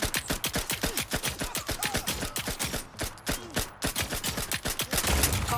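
Rapid, sustained gunfire from combat in The Outer Worlds 2, a dense stream of sharp shots in quick rhythmic succession that barely lets up for about five seconds, moderately loud with no talking.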